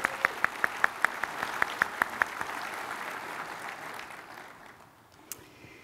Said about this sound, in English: So can I get another round of applause for our fantastic singers?